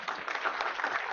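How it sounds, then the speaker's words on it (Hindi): A short burst of audience applause for a participant at an official training session, steady clapping from a group at moderate level, heard alone. "तो रजनीश के लिए ताली बजाइए।"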